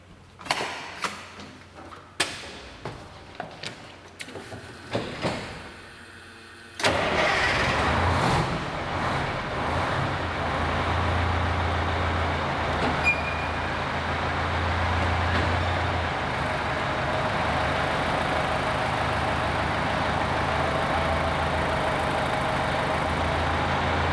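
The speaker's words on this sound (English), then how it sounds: "So I'm gonna fire it up, put it in low, and then just let the tires" A vehicle engine is started with its drive wheels lifted off the ground and put in low gear. A few clicks and knocks come first, then the engine catches and settles into a steady, continuous running drone with the tires turning freely.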